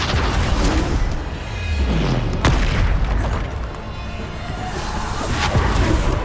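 Bombarda spell blasts in Hogwarts Legacy during combat: loud, dense booming explosions with sharp crack transients and whooshing sweeps, one after another over sustained rumbling battle noise, no talk.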